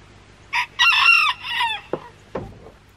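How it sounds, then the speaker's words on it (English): Chickens in a thick grassy area near apple trees give a drawn-out, crow-like call, followed by a couple of sharp clucks. The birds are close and loud, with no talking. "I think the chicken should like this area."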